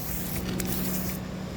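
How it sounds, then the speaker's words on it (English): A steady hissing spray of soap cleaning solution is applied to a roof in Florida, loud and continuous throughout with a faint machine hum underneath. "I don't know why I'm spraying soap here where I gotta walk"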